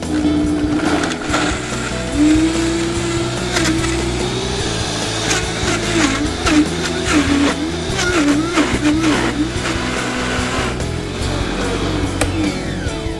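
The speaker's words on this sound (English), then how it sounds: "I'm going to run our Vitamix on high, and I'm going to use the tamper to press the peaches down into the blades." A Vitamix Vita-Prep 3 blender runs on high, blending frozen peaches as a tamper presses them down, making a loud, steady motor whine with wavering pitch and rattling, knocking chunks throughout.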